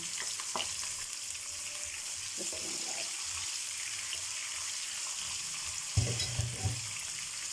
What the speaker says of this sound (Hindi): मीडियम साइज़ का मैंने प्याज लिया है, इसको फ्राई कर लेंगे।